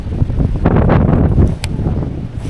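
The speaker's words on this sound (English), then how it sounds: "the sustained wind is 20 miles an hour, and then we're getting gusts of 28, 30 plus" Strong gusty wind across a lake on a bass fishing outing, loud buffeting rushes and roaring microphone wind noise in uneven surges, close and continuous.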